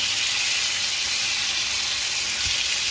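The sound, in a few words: garlic steak pan-searing and sizzling in a pan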